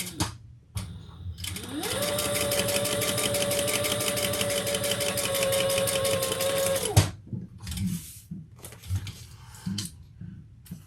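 A sewing machine runs a short back stitch on a Novella garment pattern, a rapid even whir lasting about five seconds between quieter handling clicks and rustling of fabric.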